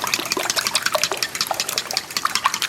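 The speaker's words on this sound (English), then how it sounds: "we're going to crack 10 eggs into a large bowl. I'm adding 1 1/4 cup of whole milk, and we're going to whisk this together." Ten eggs and whole milk are whisked together in a large bowl, a rapid wet, sloshing patter that is close and continuous, with no voices.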